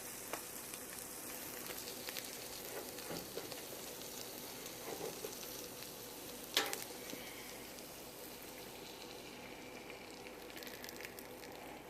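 A pork chop pan sauce of onions, butter and cream sizzles softly and steadily in the pan, a faint continuous hiss with a single sharper clink partway through.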